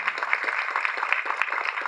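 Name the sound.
applause from audience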